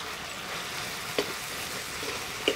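Zucchini and tomato fry gently in a covered pan, a soft, steady sizzle with a couple of faint clicks near the end and no talking.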